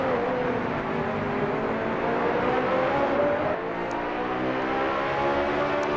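Porsche GT2 race car engine in a sim racing championship, a sustained loud drone with engine pitch climbing steadily, then dropping at a gear change and rising again.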